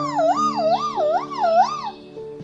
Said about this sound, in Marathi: मी रुग्णवाहिका, मला ॲम्ब्युलन्स सुद्धा म्हणतात.